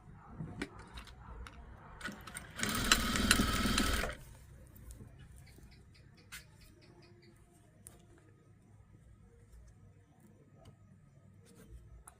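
A sewing machine stitches net fabric for a baby's party frock in one loud burst of roughly one and a half seconds, followed by quiet handling clicks and faint room noise.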